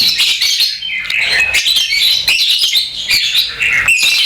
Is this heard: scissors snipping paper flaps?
no